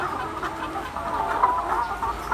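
Hens on a small village poultry farm cluck softly and continuously, a close, low murmur of fowl calls with no voices over it.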